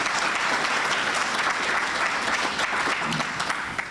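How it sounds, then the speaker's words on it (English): An audience at a formal investiture ceremony claps warmly, a dense, steady round of applause filling the whole moment without pause. "Please give her a warm, rousing round of applause."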